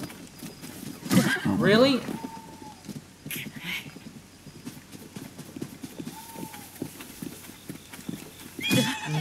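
In Zelda: Tears of the Kingdom, a horse whinnies and its hooves clip-clop at a steady pace, with a second neigh near the end. A player talks over the game sounds.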